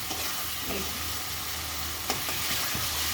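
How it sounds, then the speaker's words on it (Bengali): Spice paste for a papda fish curry being sautéed in oil, a steady close sizzle with a few light scrapes of stirring. "এটা কষতে থাকবো ততক্ষণ যতক্ষণ তেলটা না বেরিয়ে আসবে"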